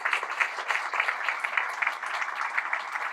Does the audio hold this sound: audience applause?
yes